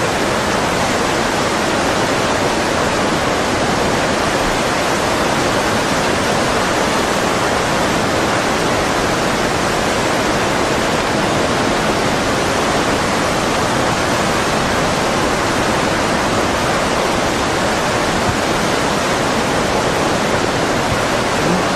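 Tsunami water surges through a town in Minamisanriku, a loud, unbroken roaring rush like a torrent that stays dense and even throughout with no voices.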